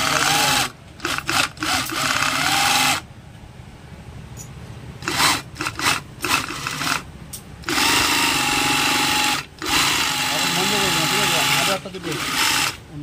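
A sewing machine stitches leather hand gloves in a workshop, whirring loudly in several runs broken by brief stops, with a voice speaking over parts of it.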